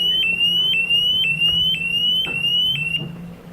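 A ShockIQ Mobile alarm shrills in loud, regular high-pitched chirps, about eight evenly spaced beeps with a sliding tone, heard up close and alone.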